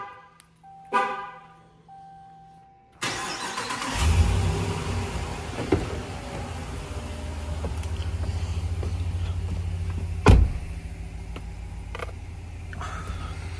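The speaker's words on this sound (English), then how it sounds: "Let's go ahead and remote start this truck." A Dodge Ram pickup starts by remote: a short chirp, then after a pause the engine cranks and catches into a steady, close idle, with a brief spike near the end.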